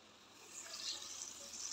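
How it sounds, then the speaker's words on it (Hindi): Water is poured steadily into a pan of jeera aloo (cumin potatoes) as it cooks, a soft continuous splashing stream that swells slightly and stays fairly quiet. "अब करेंगे पानी ऐड"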